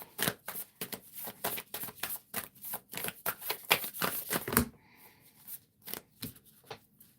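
Rapid papery riffling of tarot cards, repeated bursts of shuffling at a steady rhythm, close up, then quieter intermittent riffles toward the end.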